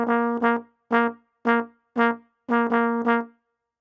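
Trombone playing a short rhythmic phrase of eight detached notes on a single pitch, grouped in pairs and singles with clear gaps, close and loud with no talking.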